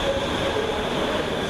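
Steady, loud rumble and rail noise of a train led by locomotive 30.75, a continuous roar with a faint squeal, no talking.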